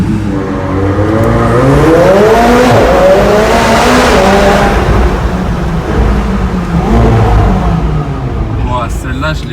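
A McLaren 720S accelerating hard inside a tunnel, its loud engine climbing through rising gear pulls that echo off the walls, with a brief tire-noise edge, and people talk over it throughout.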